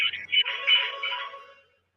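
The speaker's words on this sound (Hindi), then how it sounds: "ये किसका फोन आ रहा है" A phone ringtone plays a steady electronic melody for under two seconds, moderately loud and then fading away.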